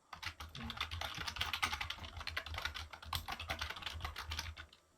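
Steady typing on a soft-sounding QSENN SEM-DT25TS low-noise membrane tenkeyless keyboard, a quick run of muffled key presses close by with a slight plasticky click, no voices.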